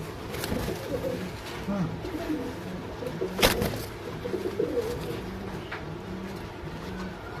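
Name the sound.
pigeons cooing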